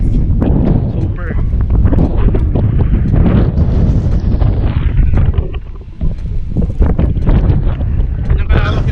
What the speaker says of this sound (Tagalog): napakalakas ng hangin dito guys